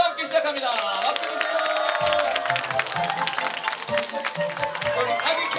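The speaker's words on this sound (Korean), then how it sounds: "자, 힘찬 박수 함께 시작합니다" An audience claps along at a Korean children's daycare recital, steady applause and cheering running throughout beneath an adult's voice and music.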